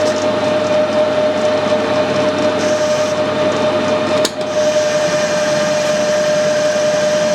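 A milling machine runs a boring head through a 40mm steel bar, giving a continuous close hum with a steady whine, a brief dip midway and then the same even cutting drone.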